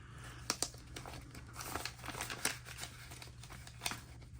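Paper cash is handled and pushed into a budget envelope, producing soft crinkling and rustling with a few sharper crisp snaps, close and quiet, with no talking.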